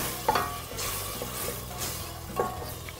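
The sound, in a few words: water added to tomato paste, sizzling and stirring in pan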